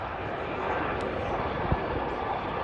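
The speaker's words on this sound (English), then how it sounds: "with that high engine whine that you hear" A helicopter flies at an air festival, its engine giving a steady, high-pitched turbine whine over broad roaring rotor and engine noise, loud and continuous throughout.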